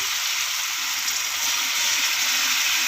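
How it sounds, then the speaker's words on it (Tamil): Water poured into a hot pan of cooking raw mango for pachadi makes a steady hissing sizzle that holds for several seconds without any talking. "இப்போ வந்து தண்ணி சேர்த்துக்கலாம்."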